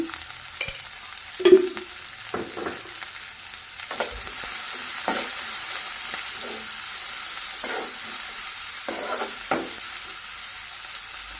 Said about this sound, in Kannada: ಇದನ್ನು ಬ್ರೌನ್ ಕಲರ್ ಬರೋ ತನಕ ಫ್ರೈ ಮಾಡ್ಕೊತಾ ಇದ್ದೀನಿ